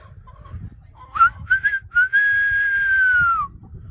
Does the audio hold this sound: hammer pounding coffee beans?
no